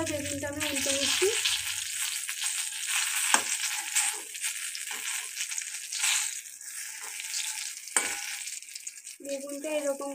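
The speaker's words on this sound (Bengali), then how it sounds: "বেগুনটা এরকম করে লাল লাল করে ভেজে নিতে হবে" Eggplant pieces fry in a pan of oil, giving a continuous, close crackling sizzle. Stirring and scraping noises recur throughout.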